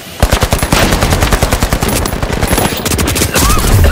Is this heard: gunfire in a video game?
yes